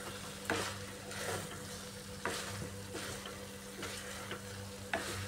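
Fried pointed gourd, dal and potato sautéing in a pan, a soft steady sizzle broken by several regular stirring scrapes and clacks, close but quiet, no talking.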